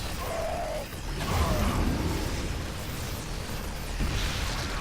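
A tank destroyed in StarCraft 2, with a muffled explosion and a whooshing burst over steady battle noise, followed by further rumbling impacts.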